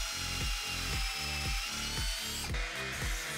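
A power drill bores pocket holes into a wooden trim piece in a run of short, repeated bursts, each spinning up and winding down in a steady rhythm, close and clear with no talking.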